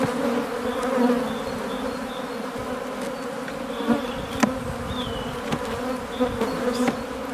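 Honey bees, black British bees, swarm over the frames of an opened hive, giving a dense, close, continuous buzz with individual insects droning past the microphone and no talking.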